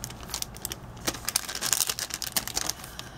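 Glitter spiderweb paper cutout being cut in half with scissors, a close run of small crisp snips and crinkly paper rustles, quiet and without talk.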